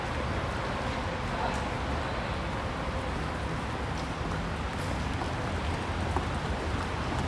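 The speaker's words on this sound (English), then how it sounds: "It's raining pretty heavily," Heavy rain on a Tokyo street at night in Shibuya, a constant soft wash of falling water and wet pavement, fairly faint and even, with distant city murmur behind it.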